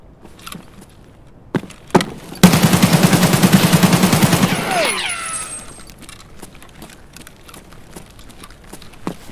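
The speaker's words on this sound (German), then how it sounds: "Habt ihr Schüsse gehört?" Gunfire in the video game Escape From Tarkov: a few sharp single cracks, then a loud sustained burst of rapid automatic fire lasting over two seconds, then scattered clicks and fainter noises.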